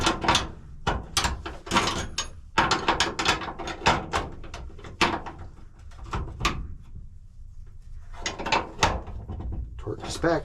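Ratchet wrench clicking as a bolt is tightened on a Beechcraft BE35 Bonanza retractable step, a run of quick close ratcheting strokes in short bursts with pauses, under some handling noise.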